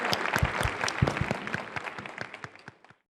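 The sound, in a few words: audience applause welcoming the Governor of Veracruz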